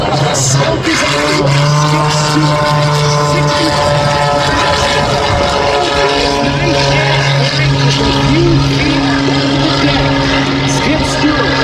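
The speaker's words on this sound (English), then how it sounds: "Skip Stewart starts his performance with a great deal of power, and it does not stop as part of his full aerobatic routine that we're going to see right now." Aerobatic airplane at an October air show in North Little Rock, its engine roaring loud and continuous with sustained tonal drones and shifting pitch through the maneuvers, heard from the ground under a busy, noisy crowd environment.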